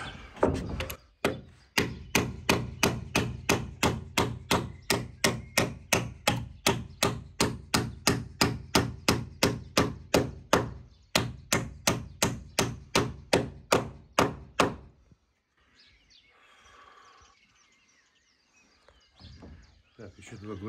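Nails being hammered by hand at a remote homestead with no electricity: a long run of sharp, evenly spaced hammer blows, loud and close, that stops abruptly and gives way to quiet rustling and faint voices.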